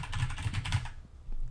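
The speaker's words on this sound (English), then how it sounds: "Let's go ahead and try typing something else." Rapid, close clicking of keys on a computer keyboard during an Android app demo, a dense burst of keystrokes for about a second, then a pause before a few more taps.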